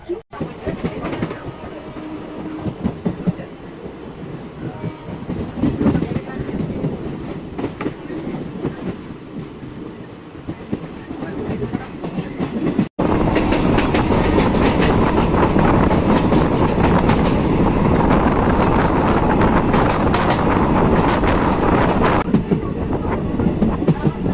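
The Teesta Torsha Express passenger train rumbles steadily along the tracks, heard from a sleeper-class coach, growing louder and denser midway as it picks up, with a continuous rattling clatter throughout.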